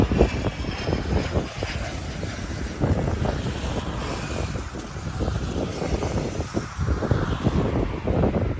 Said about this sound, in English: This Cessna Citation approaching a runway without landing gear, then at the last second going around.